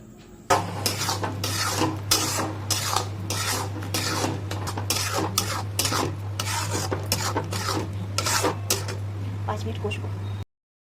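Egg curry masala with nut paste being sautéed in a pan for an egg do pyaza, with repeated rasping scrapes and stirring strokes of a utensil against the pan over a steady low hum, with a person talking throughout.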